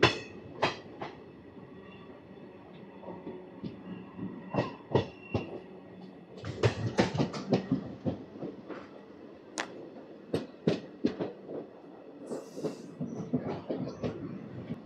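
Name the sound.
DEMU diesel train departing Balepalli railway station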